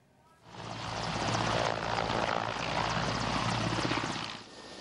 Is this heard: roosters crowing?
no